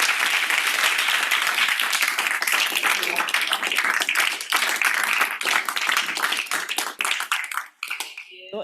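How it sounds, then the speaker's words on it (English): A lecture audience claps for the speaker Mr. Mazza, a dense, bright round of applause that holds steady and thins out near the end as individual claps become audible. "let's give Mr. Mazza one more round of applause"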